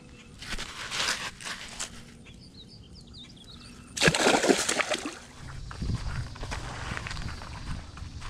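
A caught bass released back into a neighborhood pond, with a sharp splash and sloshing water near the four-second mark, plus scattered footsteps and handling noises around it.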